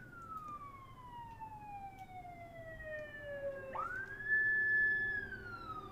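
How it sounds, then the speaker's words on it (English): A fire engine siren wails outdoors, sweeping slowly down in pitch, then rising sharply into a steady high tone, moderately distant and sounding alone. "Sorry, that's the sirens if you can't hear them"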